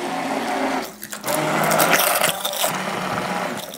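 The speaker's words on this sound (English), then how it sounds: "my hand immersion blender I use for everything" A hand immersion blender whirs steadily as it blends sugar, eggs and cottage cheese, a loud continuous buzzing with brief dips where the blade shifts in the mixture.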